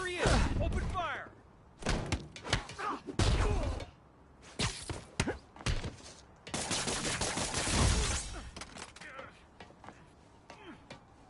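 Enemy gunfire erupts in Marvel's Spider-Man 2, with bursts of shots, heavy thuds and impacts arriving in irregular clusters, mixed with shouted voices between the volleys.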